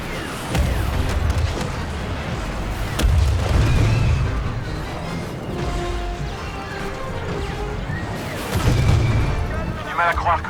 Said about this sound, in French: Je vois les canons anti-aériens.